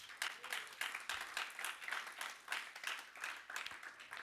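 Church congregation clapping during a sermon, a quiet, rhythmic run of roughly regular claps, about three per second, heard from a distance in a reverberant room.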